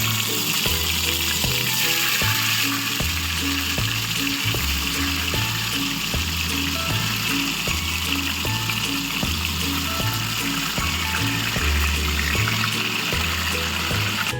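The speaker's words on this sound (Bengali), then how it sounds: "এবার মাছগুলোকে খুব হালকা করে ভেজে নেব।" Catla fish pieces frying lightly in oil, a continuous close sizzle with bubbling and an uneven low thumping rhythm underneath, no voices.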